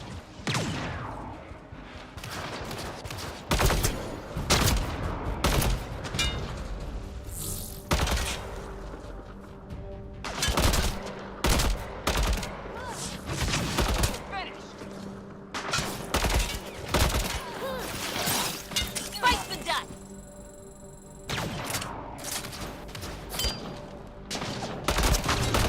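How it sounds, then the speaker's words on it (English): Gunfire and laser shots in the sci-fi shooter Mass Effect Andromeda, with crisp repeated bursts and sharp single cracks spread across a long firefight, loud and close against a hum of game ambience. "Lasers. Ow, ow, they're shooting me."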